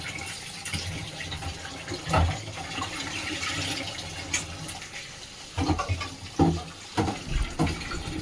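Tap water runs steadily over fish being washed in a kitchen sink, with splashing bursts and clatters breaking through the continuous flow; no talking.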